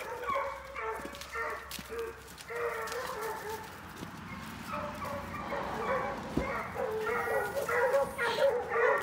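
Bluetick hounds bark and bay repeatedly from a short distance outdoors, mixed with a crowing rooster and farm animals, while people talk quietly underneath.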